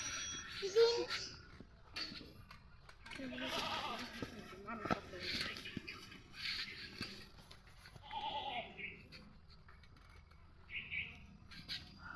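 A baby goat bleats among a crowd gathered outdoors to watch ducks fight, its short cries rising now and then over constant chatter and background noise.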